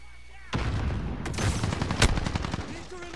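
AK rifle gunfire in a video game shooter: a rapid burst of loud, sharp automatic shots starting abruptly and rattling on for several seconds, with a few heavier cracks mixed in.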